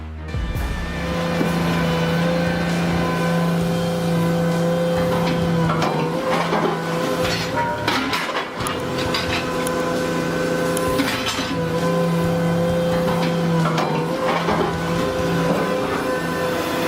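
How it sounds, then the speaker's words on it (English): Hydraulic industrial crusher engines drone in a deep, steady rumble at a scrap and waste yard, loud and continuous, with mechanical clanks and a brief dip midway. "Hydraulic engines rumble deep."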